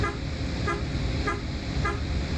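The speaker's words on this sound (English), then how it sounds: "But you can also use the air horn" An air horn on a Mercedes-Benz Monobloco O400 RSD bus in Euro Truck Simulator 2 sounds three short, loud toots at an even rhythm over steady road and engine noise.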